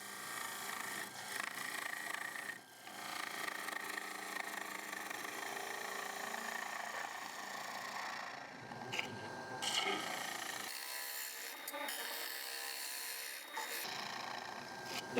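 A woodturning gouge cuts an octagon winged bowl spinning on a wood lathe, making a steady, close rasping scrape over the motor's hum, with short breaks and changes in pressure.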